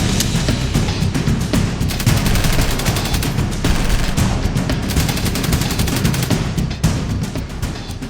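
Sustained battle gunfire with machine guns and rifles: dense, continuous rattling bursts and cracks, loud and close, with no pauses over the whole stretch.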